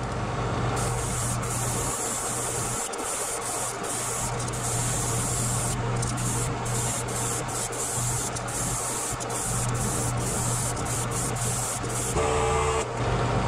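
An airbrush sprays Createx Transparent Sunrise Yellow paint as a base coat on a fishing lure: a continuous close hiss that holds steady for several seconds, with faint clicks and no talking.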